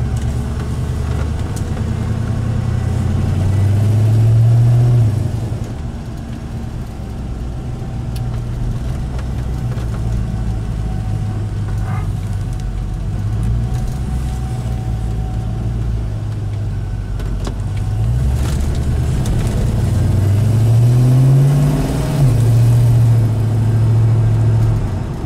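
A 1969 Camaro with an LS1 V8 runs smoothly while driving on the road, giving a loud steady low engine drone that swells on acceleration a couple of times.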